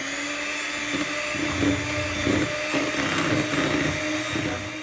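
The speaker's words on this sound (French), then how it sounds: "On va tout fouetter tranquille." An electric mixer whisks the filling for a no-bake strawberry fraisier cake in a steady, close whir, rising and falling slightly with the beaters' motion, with no talking over it.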